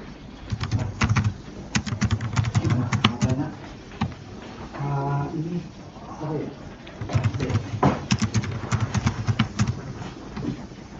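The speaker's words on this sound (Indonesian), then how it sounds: "Kita ketik dulu." Rapid clattering keystrokes on a computer keyboard while entering database details, coming in dense bursts close up, with a short stretch of speech breaking in midway before the typing resumes.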